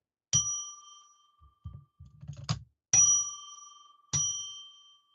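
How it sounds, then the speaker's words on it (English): A small bell rings three clear, separate strikes, each ringing out and fading, with soft handling knocks and rattles between the first and second strikes. "I'm going to ring a bell 3 times now to declare sacred space"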